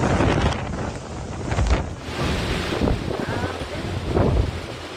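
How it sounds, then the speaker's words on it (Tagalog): Strong wind buffets the microphone in steady gusts in Bani, Pangasinan, with a broad rushing roar and what may be rain hiss underneath, swelling near the start and end. "Malakas na hangin naman ang kasabay ng ulan"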